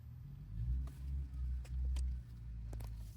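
A C6 Corvette LS-powered drift car with a Haltech setup idles on a cold start at about 60 degrees outside, a steady low rumble with slight surges, close by and without talk.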